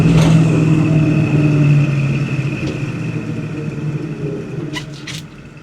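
A 1970 Ford Mustang drives along the road, its engine rumbling steadily and loudly up close with a low droning note that eases slightly toward the end, with no one talking.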